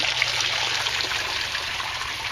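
Water from an aquaponics inflow pipe pours into a tank, a steady, close splashing trickle with a bright hiss that runs continuously without a break.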